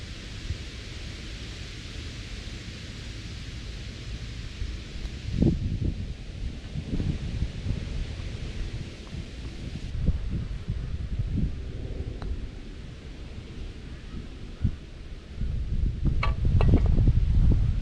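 Wind sweeps across a golf course on a cold day, a continuous broadband rush with gusty low rumbles and buffeting that swells louder toward the end.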